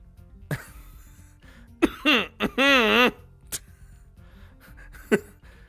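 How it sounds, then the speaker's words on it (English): A short, sharp cough from a girl in the visual novel Katawa Shoujo stands out among faint breaths and small vocal noises, with a longer strained throat sound nearby. "she's stopped when Lily gives a sharp cough"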